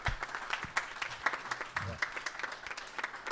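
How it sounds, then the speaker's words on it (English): Audience applause at a music industry conversation event at Bop Stop in Cleveland, moderate in volume, with scattered individual claps in an uneven patter lasting a few seconds. "So how about a quick round of applause?"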